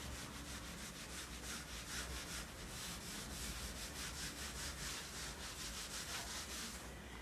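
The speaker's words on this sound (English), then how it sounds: "I am just rubbing it now." Steady rubbing, like sandpaper worked back and forth over wood, with a repeated scraping rhythm lasting several seconds at a fairly even level and no talk over it.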